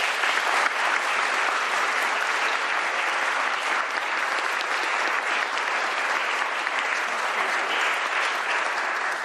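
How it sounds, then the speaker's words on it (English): Sustained audience applause at a state bill signing ceremony with the governor, a dense, even wash of clapping from a room of people lasting throughout without letting up. "Please give them both a round of applause."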